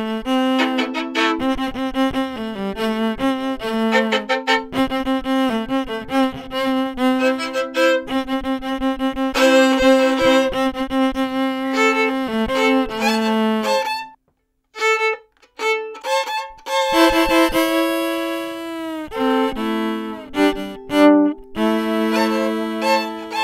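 A solo fiddle plays an energetic rhythmic backup fill of bowed, pulsing notes and double stops, breaking off briefly midway before resuming with a brighter, higher run, close and clear with no talking.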